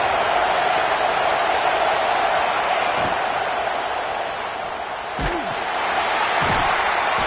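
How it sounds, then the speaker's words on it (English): Stadium crowd roaring at a college football game in a video game, a steady loud wash of noise from a Gators home crowd on third down, with a couple of brief thuds partway through. "This crowd on hand trying to make sure the Gators don't back down on 3rd down"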